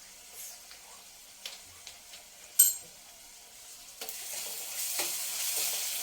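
Ginger garlic paste sizzling in a pan for egg rice, a steady frying hiss that swells louder near the end, broken by light spoon scrapes and one sharp clink, with no voices.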